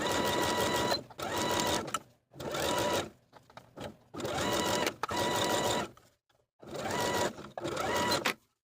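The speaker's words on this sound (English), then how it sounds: "Then we can sew the elastic to the shorts all the way around with a 1/4 inch seam allowance, with a zigzag stitch" Zigzag stitching with a 2.5 mm length and width, a sewing machine sews elastic around the upper edge of shorts in six or seven close, loud bursts of about a second each, separated by short silent pauses.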